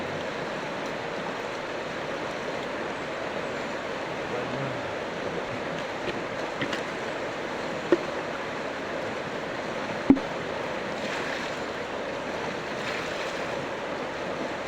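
A river flows with steady rushing water, continuous, a broad even wash of sound with a faint breezy quality and no voices.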